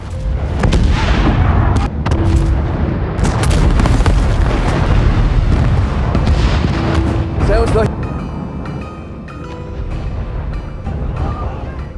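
A bombed S-boat explodes in a wartime film scene, with heavy booming blasts and rumbling debris roaring loudly for several seconds before easing into a quieter rumble with faint tonal film sound.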